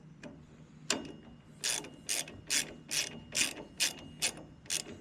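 A ratchet clicks as bolts are lightly snugged down on a brake caliper during a TBM brake kit install on a 5th-gen Camaro, about eight close, evenly paced bursts of rapid pawl clicking, a few metallic taps before them, no speech.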